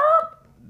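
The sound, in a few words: person imitating a goose honk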